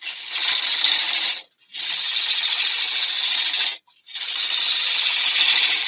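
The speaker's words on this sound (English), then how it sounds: "So now I've got the lathe running forward and I'm pushing all the shavings away from me" A wood lathe spins wet apple wood as a chisel cuts it, making a loud, close, hissing scrape that runs in three long passes with short breaks between them.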